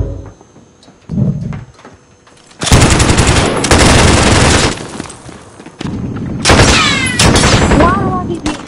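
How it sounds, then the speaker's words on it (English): Rapid automatic gunfire in a video game firefight, loud bursts of sustained blasting that start, break off and resume, with shots ringing and trailing off between volleys. "They all just blast at me."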